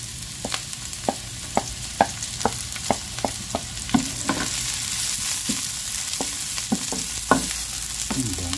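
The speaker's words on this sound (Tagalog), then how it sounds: "Gisa lang tayo ng ating bawang sibuyas." Garlic and onion sizzle in a hot pan while a utensil stirs and scrapes through them, giving a run of sharp clicks and taps over a steady frying hiss, close and fairly quiet.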